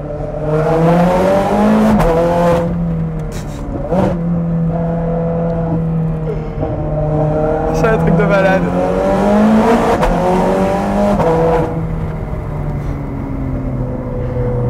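A loud Ferrari 430 Scuderia engine with a Capristo exhaust roars and revs continuously, pitch rising and falling between gear shifts, with someone speaking excitedly over it.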